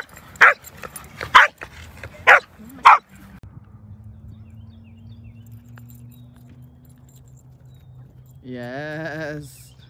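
Four loud, sharp dog barks close by at a 30-acre dog park, Taylor Farm in Connecticut beside Calf Pasture Beach, then a quiet stretch and a brief whining whimper near the end.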